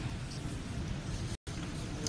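Steady rain falls outside on a cold night in Newtown, Connecticut, a constant broad hiss with low rumble, briefly cut off by a short gap.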